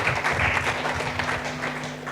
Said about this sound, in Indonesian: Berikan tepuk tangan meriah buat Tuhan kita